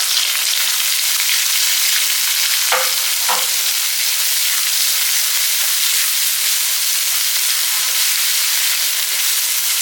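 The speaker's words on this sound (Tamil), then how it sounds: "இப்போ வந்து ஒரு கைப்பிடி அளவு பெரிய வெங்காயம் போடுறேன்" A handful of large onions frying in hot oil in a pan, a steady loud sizzle throughout with a couple of brief stirring scrapes near the start.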